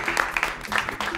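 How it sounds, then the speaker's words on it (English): Applause for the winner of a children's televised spelling competition, a brief burst of audience clapping with voices mixed in. "Another round of applause."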